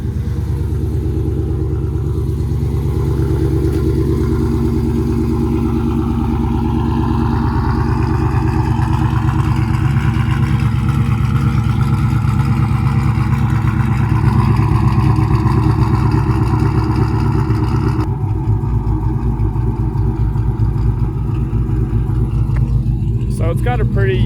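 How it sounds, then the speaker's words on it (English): A stage 1 cammed 6.4 Hemi Scat Pack idles with a loud, deep, choppy lope that rumbles steadily and close, while someone talks over it. "So it's got a pretty unique idle. It's choppy, but it's got a real deep tone to it, which I really like."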